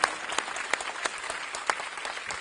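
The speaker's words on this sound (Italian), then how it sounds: "Un applauso." A theatre audience in Venice claps in sustained applause, a dense, even patter of many hands with a few sharper claps standing out, heard from within the hall.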